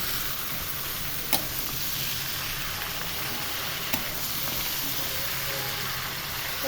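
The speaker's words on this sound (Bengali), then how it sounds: "এবার উপর নিচে সমান করে সুন্দর করে নেড়ে দিতে হবে" Pumpkin greens fry in a pan and are stirred to cook evenly, giving a steady, loud, close sizzle and hiss with two brief scraping clicks from the stirring utensil.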